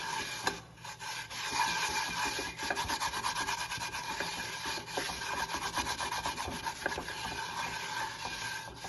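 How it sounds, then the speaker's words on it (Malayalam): Steady rough rubbing and scraping of a half onion against a hard dosa griddle, continuous back-and-forth strokes, close up with no talking. "സവാളയുടെ പകുതി എടുത്ത് ഇതുപോലെ നന്നായിട്ട് തടവി കൊടുക്കാം"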